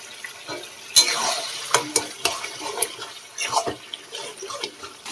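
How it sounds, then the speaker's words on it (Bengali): Taro leaves are stirred in a frying pan: a spatula scrapes and taps against the pan in several distinct strokes over a soft, low sizzle, close and moderately loud. "বন্ধুরা ভালো করে কচু শাকগুলো নেড়ে দেবো।"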